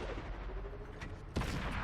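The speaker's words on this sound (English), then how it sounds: "I'm firing on the move, even though it's not an optimal thing with this tank" A tank cannon fires while the vehicle is moving in a tank video game, a single sharp boom near the end, faint and distant-sounding, over a steady engine rumble.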